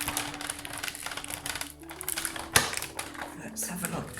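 A Big Shot die-cutting machine cranks acetate stars through its rollers, giving a grinding mechanical run with a sharp clack partway through, heard close under someone talking.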